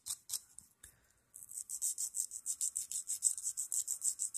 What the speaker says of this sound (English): So if you feel more comfortable filing this way, that's fine.